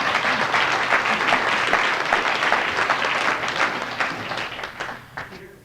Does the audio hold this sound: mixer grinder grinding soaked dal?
no